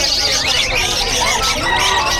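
Many birds for sale at the Bocaue pet market in the Philippines, with dense overlapping chirps and calls filling the space continuously and loudly, mixed with background chatter from people nearby.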